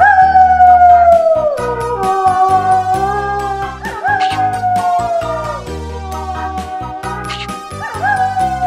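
A wolf's long wavering howl with a dog-like tone, rising and falling in several loud drawn-out calls with short breaks between, close and prominent and without speech.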